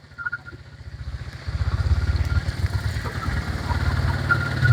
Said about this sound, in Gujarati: કેટલું બાઈક અમારું ડૂબાઈ જાય છે તમને ખબર છે?